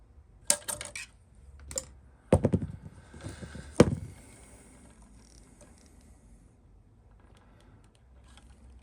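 Surplus cable being trimmed during cleanup of an EICO 950A power supply: a handful of sharp snips and clicks, close and distinct, spaced over several seconds with quiet between them.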